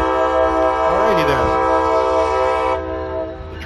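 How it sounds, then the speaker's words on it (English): A Brightline passenger train sounds its horn as it pulls out of the station, a sustained loud blaring tone with a brief wavering swell, fading slightly at the end under steady rail rumble. "we're going to watch the Brightline pink leave the station headed for West Palm"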